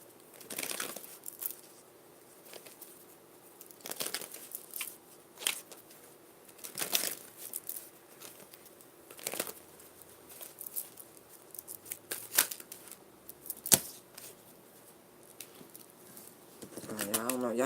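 Tarot cards are shuffled in a series of soft, papery riffles and taps, close by, coming in irregular bursts over a quiet background.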